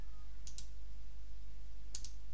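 Computer mouse clicks while setting up a bootable Linux USB stick: two quick double clicks, about a second and a half apart, fairly faint over a steady low electrical hum, with no talking.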